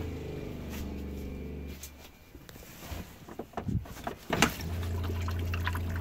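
The water pump in a 1987 Winnebago motorhome runs with a steady low hum. It pauses briefly while water splashes and clatters, then hums on again at the same level. No one speaks.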